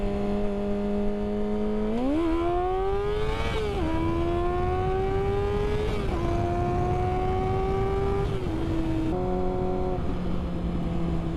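Motorcycle engine droning steadily on the road, its pitch stepping up and down through gear changes as the rider prepares to downshift and pass a car, with constant wind rumble underneath.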